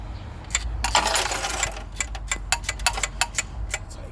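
Rapid metallic ratchet clicks from a 10 mm socket wrench tightening bolts during an alternator swap on a 1999 Grand Marquis, coming in short irregular bursts close by, with no talking.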